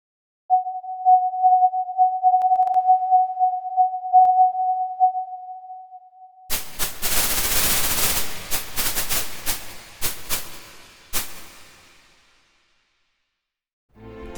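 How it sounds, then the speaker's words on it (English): A Breather VST synth holds a steady pure sine tone for about six seconds, then switches to harsh broadband noise in loud bursts and stabs, trailing off into near silence. "Here it is used to compare the sound of sine waves versus noise."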